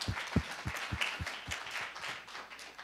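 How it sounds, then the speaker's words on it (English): Audience applause at a 2019 student government association debate, a steady patter of many hands clapping, with a few sharper close claps near the start before the sound settles into an even, moderate-level spread of claps. "Just give yourselves a round of applause real quick for that."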